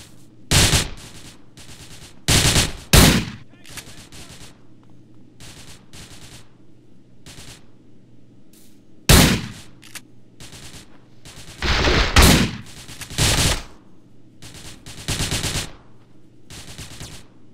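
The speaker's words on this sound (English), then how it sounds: "Get some suppressing fire in there!" Bursts of machine gun fire from GTA San Andreas, several loud rapid volleys spaced out over a steady low game background hum, with no talking.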